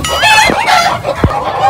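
Several chickens cluck and squawk close by in quick, overlapping calls, loud and agitated.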